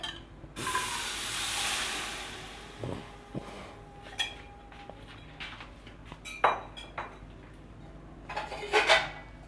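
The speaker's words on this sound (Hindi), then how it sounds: "अब हमने कढ़ाई में चने डाल देने हैं।" Cooked black chickpeas tip into a wok for pulao with a soft sizzling hiss, followed by scattered clinks and scrapes of a spoon against the pan, close and moderately quiet, with no voices.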